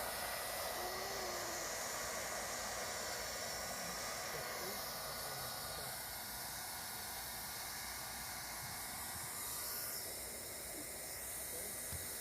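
A heat gun warms a Johns Manville thermoplastic PVC outside corner during roofing installation, giving a continuous close, steady hissing blow throughout with no clear speech over it.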